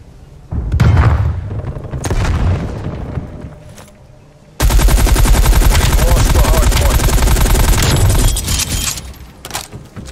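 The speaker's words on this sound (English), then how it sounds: "Throwing stun. Incendiary out. Throwing grenade." Explosions and dense bursts of gunfire from a Call of Duty Cold War Hardpoint match on Armada, with an opening blast, scattered shots, then a loud sustained stretch of rapid automatic fire and booms before tapering off.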